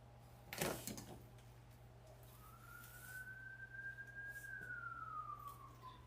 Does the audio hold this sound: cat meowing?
no